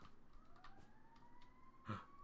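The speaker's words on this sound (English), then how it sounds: "Wait, did you put a siren?" A siren in a video game map sounds as a faint, steady rising-and-falling tone, with a short bump of other game noise near the end.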